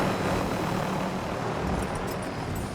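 A helicopter in the video game Call of Duty Black Ops gives a loud, steady rotor and engine roar that fills the whole moment, with no talking.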